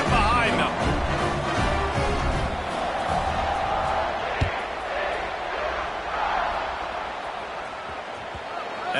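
A college football stadium crowd roars steadily through kickoff of Colorado vs TCU, a dense wash of cheering that swells slightly, with a commentator talking over it.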